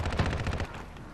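Rapid automatic gunfire from a first-person shooter game, Modern Warfare, a dense stream of shots for most of a second before trailing off, loud and close with no talking over it.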